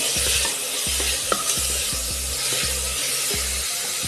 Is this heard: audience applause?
no